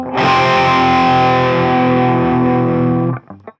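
Distorted electric guitar sustaining a loud chord while the whammy bar is pushed down with the thumb, giving a slow, hollow-sounding pitch dip; it rings for about three seconds, then cuts off.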